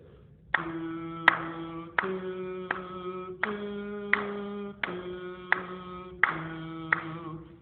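Steady claps marking paired sustained tones, each note held about a second and a half, with the pitch shifting slightly between groups.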